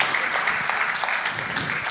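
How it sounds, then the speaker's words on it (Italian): An audience applauds at a journalism award ceremony, a steady wash of clapping that holds at an even level for about two seconds, with no voices standing out. "Un applauso a Tullio per il suo lavoro."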